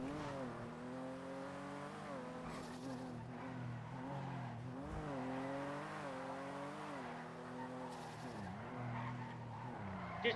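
Penumbra sports car from GTA V driving off in a NoPixel roleplay session, a steady engine drone with shifting pitch and tire noise running throughout, fairly loud and continuous with no talk.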